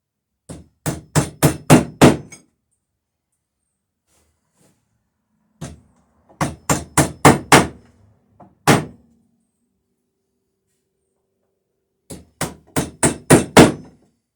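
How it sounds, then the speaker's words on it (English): Hammer blows on a wooden planking bench built from 1-inch boards set on edge, struck in three quick bursts of four to six sharp knocks each, with a single knock between the second and third bursts. Loud, close and with no voices. "Here's the hammer."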